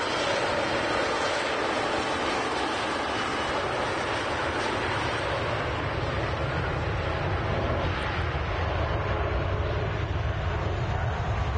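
Jet aircraft taxiing at Manchester Airport, a steady, loud, broadband engine roar holding evenly throughout with no talk over it.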